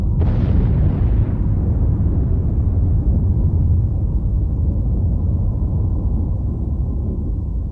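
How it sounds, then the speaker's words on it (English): A test bomb detonated aboard an aircraft by crash investigators: a sharp, loud blast at the start, followed by a long, deep rumbling decay that slowly fades over several seconds. "the investigators decided to blow up some aircraft"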